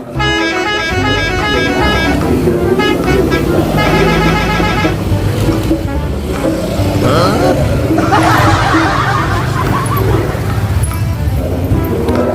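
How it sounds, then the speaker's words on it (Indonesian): A truck drives past on a busy village street and gives several loud, tonal horn blasts, some in patterned bursts, over engine rumble and crowd noise. People talk and call out close by throughout. "ada truk oleng"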